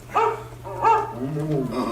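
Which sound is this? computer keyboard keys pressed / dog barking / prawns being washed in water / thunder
dog barking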